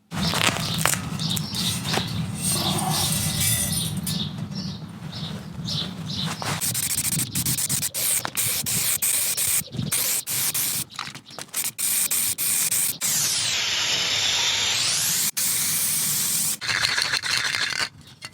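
An aerosol can sprays stone chip coating onto a homemade log store, a steady loud hiss held for most of the stretch with a few short breaks, close by and without speech.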